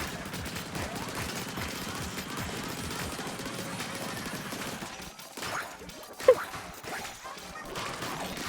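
The Crab Tank in Splatoon 3: Side Order fires a rapid, continuous stream of gunfire-like bursts for about five seconds, then the shooting drops away and a single sharp crack stands out.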